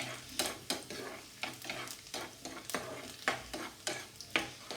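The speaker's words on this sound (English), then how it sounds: "Now saute it, make sure it doesn't get burnt" Garlic cloves and chili sauteed in hot oil over a reduced flame for egg fried rice, a steady sizzle broken by regular stirring scrapes and clatters, close and moderately loud, with no talking.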